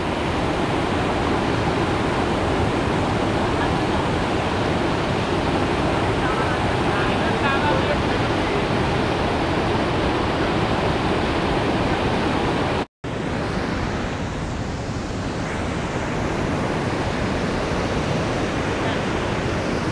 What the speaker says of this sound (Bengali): কাসাদা ওয়াটারফলসে অনেকেই স্নান করে, জলের প্রচুর স্রোত